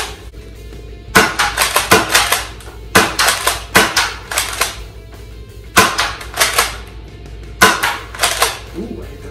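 An X-Shot Max Attack foam dart blaster fires standard darts in loud, close bursts of sharp snapping shots, several rapid volleys separated by short pauses.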